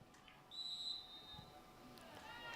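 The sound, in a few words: referee whistle at a field hockey game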